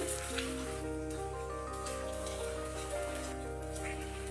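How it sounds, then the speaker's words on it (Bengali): Three eggs frying in hot mustard oil in a frying pan give a soft, steady sizzle and light spatter, fairly quiet and continuous, with no one speaking. "তেল গরম হয়ে গেল এবারে এর মধ্যে এক এক করে তিনটি ডিম ফাটিয়ে দিচ্ছি"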